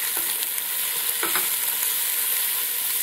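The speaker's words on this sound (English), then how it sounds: "So as I'm stir frying this" Sofrito seasoned with sazon Goya sizzles loudly in a pan, stirred with a few soft scrapes over a continuous close frying hiss.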